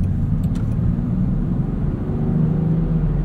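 A 2024 Land Rover Defender 130 Outbound on the move, a steady low engine and road rumble heard from inside the cabin, even and unbroken, with no talking.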